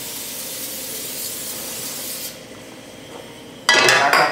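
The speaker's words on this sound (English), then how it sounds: "I'm going to have some Pam, some cooking spray ready to go" Pam cooking spray hisses from the can toward a pan pulled off the heat, a steady spray that cuts off, followed after a short quiet gap by a louder burst of sizzle or metallic clatter.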